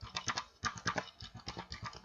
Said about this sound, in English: I am typing the project name as descending one